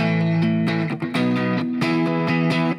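Distorted electric guitar strumming a 5-4-5-1 chord progression, a run of sustained chords with sharp changes between them, loud and close, played alone without talk.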